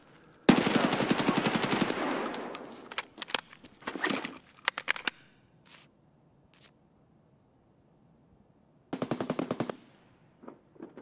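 Gunfire in Escape From Tarkov on the Customs map, a long rapid automatic burst from a P90 or MP5, then scattered single shots and short volleys, and another fast burst near the end.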